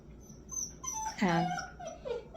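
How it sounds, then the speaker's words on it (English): Small, high-pitched whimpers from a puppy, a couple of short whiny cries rising and falling over a quiet room. "enjoying the little whines of the puppy"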